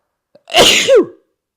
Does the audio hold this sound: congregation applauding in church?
no